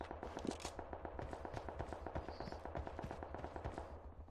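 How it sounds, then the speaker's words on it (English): Gunfire in the PUBG Mobile battle royale game crackles as a rapid, evenly spaced automatic burst, faint and distant, running for several seconds without talk. "I also hear shots."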